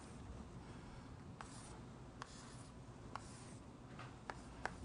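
Writing on a classroom board while a matrix is set out: a steady, faint scratch of strokes with a few sharper taps spaced through, over a low room hum with no voices.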